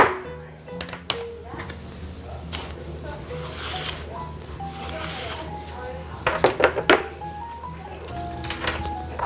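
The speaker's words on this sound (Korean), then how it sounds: "호박과 버섯을 썰어 볼게요." A knife chops zucchini and mushrooms on a cutting board in a home kitchen, with sparse irregular taps and a quicker cluster of cuts near the end, faint and close against a soft room background.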